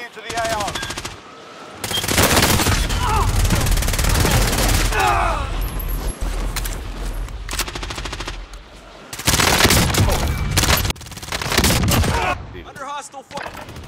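Heavy hostile gunfire in Call of Duty: Modern Warfare, loud sustained machine-gun bursts and rifle volleys in repeated waves with brief lulls, close and dominant.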